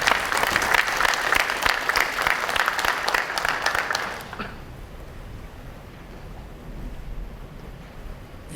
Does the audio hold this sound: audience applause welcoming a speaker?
yes